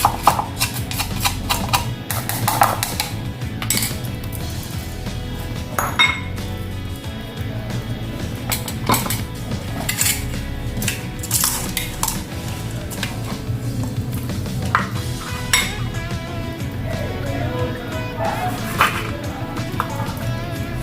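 Pestle pounding and crushing salt and ingredients in a bowl, a steady run of dull knocks and gritty scraping at close range with no talk, part of making a natural tooth-whitening mix that later takes calamansi.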